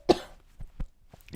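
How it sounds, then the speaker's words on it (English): A single sudden, loud cough bursts out near the mic, followed by a few fainter throat sounds and small coughs trailing off over the next second. "I don't know why I just suddenly got a cough attack."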